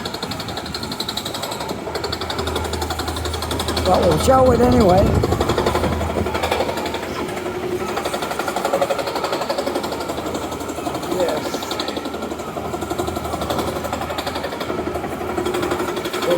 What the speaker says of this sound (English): gigantic jackhammer going here